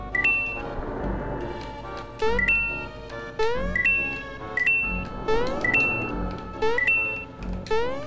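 Electronic beeps from the Super Mario RPG video game, a series of bright tonal bleeps and chirps repeating every second or so over layered game music, loud and close.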